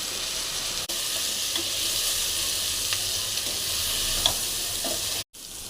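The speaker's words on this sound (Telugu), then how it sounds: "రెండు స్పూన్ల కారం పొడి ఒక స్పూన్ ఉప్పు హాఫ్ స్పూన్ పసుపు వేసి బాగా కలపాలి" Vegetables sizzle and fry steadily in a pan while chili powder, salt and turmeric are stirred in, a continuous close hiss with soft scraping stirs and a brief cut near the end.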